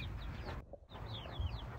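Chicks chirp repeatedly in short, high peeps against a steady low background hum, with a brief quiet gap partway through.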